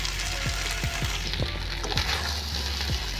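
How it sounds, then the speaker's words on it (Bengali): Taro frying in a pan with spices hisses in a dense, close sizzle, with a few soft stirring scrapes mixed into the steady crackle. "আমি এবার মশলাটা দিয়ে একটু নেড়ে নেব"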